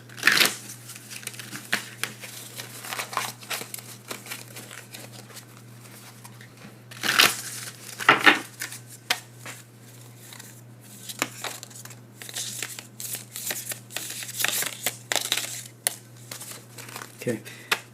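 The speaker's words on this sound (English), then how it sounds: "Let me shuffle." A Hieronymus Bosch tarot deck is shuffled by hand close up, quiet papery riffles and slides in irregular bursts with louder flurries partway through, with soft room noise between.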